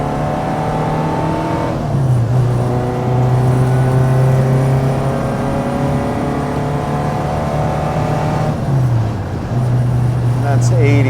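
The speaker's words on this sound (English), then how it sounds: "That's 80 without any complaints at all. A really nice exhaust note." A supercharged 1970 MGB GT's exhaust roars steadily at speed, around 80, the engine note dipping briefly twice as gears change through a five-speed Miata transmission, loud and close throughout.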